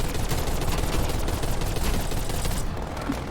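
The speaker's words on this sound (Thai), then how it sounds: "มีป้อมปืนช่วยยิงอยู่ฮะ" Turret gunfire in Call of Duty: Black Ops Cold War zombies on the Firebase Z map, a dense, loud, unbroken barrage of rapid automatic shots filling the whole stretch.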